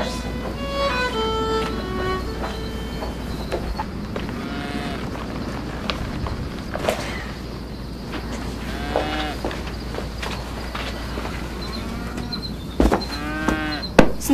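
Cattle moo repeatedly over a steady low rumble of outdoor noise, several lowing calls near and far with occasional clatter.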